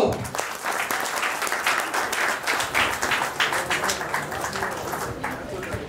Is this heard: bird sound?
no